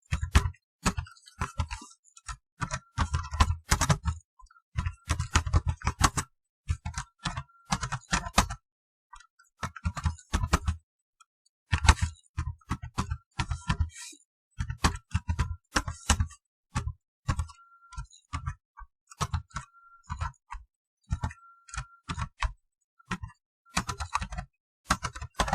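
Close, crisp clicking of a computer keyboard as code is typed in bursts of rapid keystrokes separated by short pauses, alone without talk.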